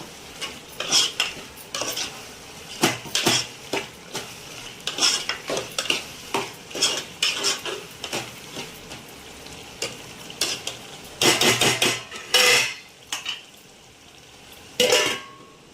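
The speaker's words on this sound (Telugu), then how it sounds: "అల్లం వెల్లిగడ్డ కూడా 2 నిమిషాలు మగ్గనిద్దాం బాగా పచ్చివాసన పోయేదాకా" Ginger garlic paste sautés in a pan, a constant frying sizzle under frequent sharp metallic scrapes and clinks of a spoon stirring against the pan, loud and close, with busier clattering toward the end.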